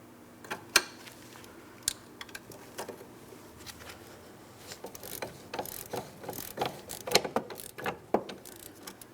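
A hand ratchet clicks in irregular bursts while removing a 16mm sway bar link mounting nut on a 2004-2008 Pontiac Grand Prix front suspension, with sharp close pawl ticks and metallic taps in a quiet garage.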